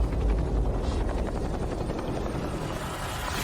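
A helicopter near a mountain village landing spot, with a steady loud rotor and engine drone that fills the whole stretch without letting up.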